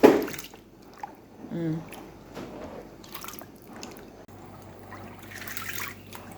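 Black-eyed peas (coki) swirled in a bowl of water while being washed, with soft sloshing, drips and trickles, starting with a splash then quieter, close, with faint low speech-like murmurs in the background.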